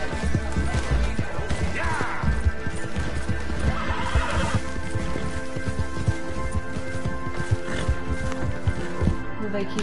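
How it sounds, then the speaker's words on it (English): A horse in Red Dead Redemption 2 neighs loudly while hooves clip-clop at a steady gallop, with rain-like patter and occasional crashes filling a busy game scene. "Get on the horse, Matt, and run!"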